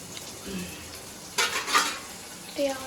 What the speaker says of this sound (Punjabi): ਹੁਣ ਆਪਾਂ ਮੋਂ ਤੜਕਾ ਲਾਉਣ ਲੱਗਿਆ ਦਾਲ ਨੂੰ